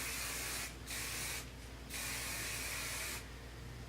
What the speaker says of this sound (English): It's a thermo protectant spray.